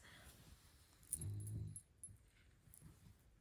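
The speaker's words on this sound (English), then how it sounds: "my dog Cheppy is sleeping next to me. That's our background music for today" A dog sleeping nearby makes a faint, soft low groan or whimper lasting about half a second, followed by a few quiet small rustles and breaths in a near-silent room.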